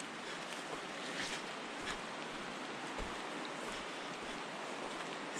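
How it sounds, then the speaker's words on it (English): Water runs beside the Cedar Brook Trail as a steady, soft, even rush close by, with no voices over it. "but the water is right next to us."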